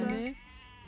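A single short sheep bleat from Age of Empires II sounds briefly and clearly, then fades into quiet game background.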